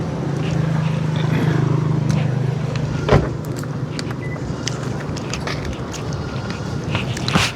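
Vehicles pass on a nearby road in rural Thailand, a steady moderate traffic rumble with a low hum and scattered clicks and knocks around it; one sharp thud stands out midway.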